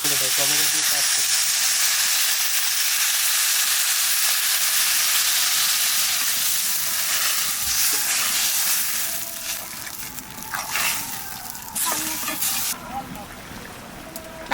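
Potatoes and tomatoes sizzling in a pan as water is poured in, a loud burst of steam hiss that gradually settles into softer bubbling and frying, with a few clinks and a voice speaking over it.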